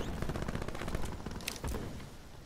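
Video game gunfire in quick volleys of sharp shots, loud and close, with a couple of brighter cracking hits partway through.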